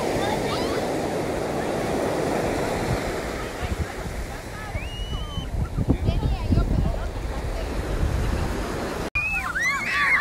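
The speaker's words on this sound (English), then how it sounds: "Oh, see big waves coming." Big ocean waves roll in at Montauk Point on Long Island, a steady rushing surf with gusty wind buffeting the microphone and a sharp knock near the end.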